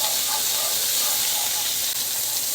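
Tablespoon of ginger sizzling in hot oil on a hibachi cooktop, a steady bright hiss with soft crackles running continuously and fairly close throughout.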